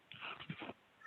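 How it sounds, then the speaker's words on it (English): A dog gives a few short, quiet yips and whimpering barks in quick succession, faint and somewhat distant, heard indoors during a meeting with no talk over them. "my dog is barking"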